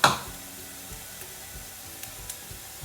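Steady crackling sizzle of onions frying in a pan, close and continuous, with a brief louder clatter at the very start.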